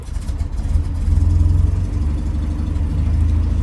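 A 1972 Land Rover Series engine idling warm, a steady close low-pitched rumble with a rhythmic throb throughout, no talk.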